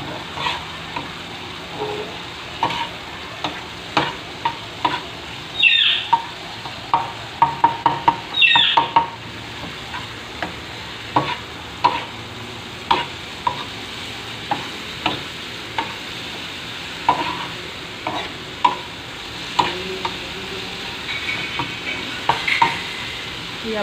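Okra being stirred and fried with sour raw mango in a pan, a continuous sizzle broken by repeated spoon scrapes and clinks throughout.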